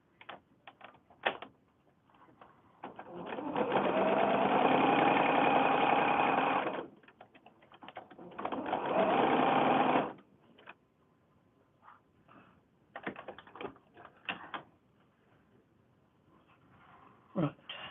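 A sewing machine stitches sashing strips between 4-inch swap blocks on a mini quilt, running in two steady bursts of several seconds each, with scattered handling clicks and a voice speaking between them.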